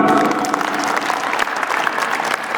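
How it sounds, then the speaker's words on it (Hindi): An audience at a school annual function gives loud, sustained applause, dense continuous clapping close by from start to finish. "उनके लिए जोरदार तालियां।"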